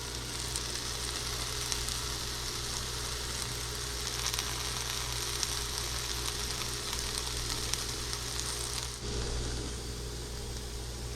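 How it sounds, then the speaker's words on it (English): A steak sizzles in a hot cast iron pan, a steady, close frying hiss with crackles that holds throughout with a low hum underneath and dips slightly near the end. "we're going to heat up the cast iron. We're going to drop the steak on."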